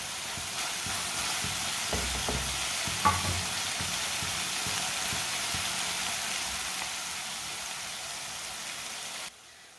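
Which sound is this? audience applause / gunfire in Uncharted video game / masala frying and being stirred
masala frying and being stirred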